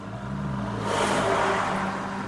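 A Ferrari California engine revs nearby with a mid-pitched whirring drone that swells in the middle and then settles, steady and moderately loud, with no voices.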